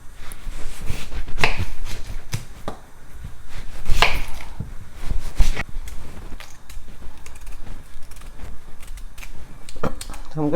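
Knife chopping a peeled yam into four pieces for a yam and chicken pepper soup, with several sharp separate cuts spaced across the clip against a board, close and moderately loud, with faint kitchen background.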